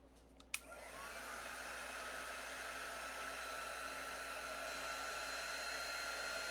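A hair dryer clicks on and runs with a steady, fairly quiet whooshing hum, drying wet paint on a thrifted craft box.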